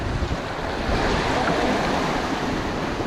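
Strengthening sea waves surging around a small fishing boat out on the water, a loud continuous rush of surf mixed with gusting wind buffeting the microphone, no voices.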